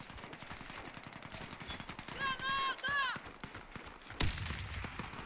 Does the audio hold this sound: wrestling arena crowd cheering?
no